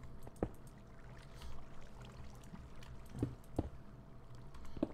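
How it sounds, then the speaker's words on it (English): A bucket of water is emptied in Minecraft: a quiet pouring, splashing wash with a few sharp little clicks and blips scattered over a faint background. "we need to put the bucket of water in this old girl"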